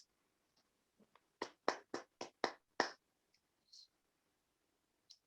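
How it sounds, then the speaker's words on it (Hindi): Children give a teacher a 'flower clap' during an online session: a quick run of about seven crisp claps, faint and distant, with a few soft clicks around them. "बच्चों दीदी के लिए एक बार तालियां बजाइए"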